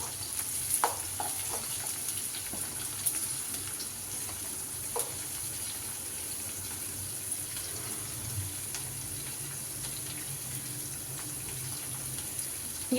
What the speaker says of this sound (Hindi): आप लोग बिल्कुल ध्यान से देख सकते हो कितने अच्छे से फ्राई हो रही है